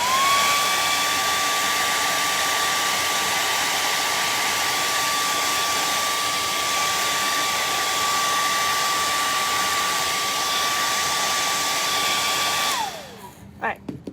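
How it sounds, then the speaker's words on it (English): A hair dryer runs steadily at close range with a constant high whine, drying a wet painted wooden block, then switches off near the end, its tone dropping away. "let's hit it with a blow dryer."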